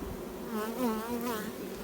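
Honeybees buzzing on beehive foundation, a close, fluttering drone that rises and wavers as insects move past.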